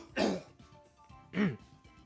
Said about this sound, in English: I'm gonna cough.